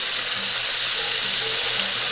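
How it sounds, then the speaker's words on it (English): Vegetables sautéing in a Dutch oven over a campfire, a loud, steady close sizzle filling the whole moment without any voices. "We're going to give these a stir around in here."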